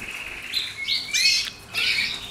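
Female pet bird chirping close by, a few bright, rising tweets and short trills in quick succession, loud and clear with no talk.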